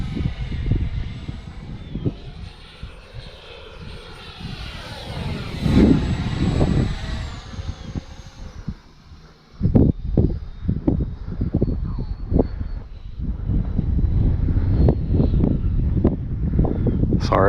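An Arrows RC Marlin 64 electric ducted-fan model jet flies overhead at a little over half throttle, its whine rising and falling as it passes, while wind buffets a nearby microphone in loud gusts.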